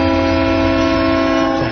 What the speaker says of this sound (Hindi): ट्रेन की सीटी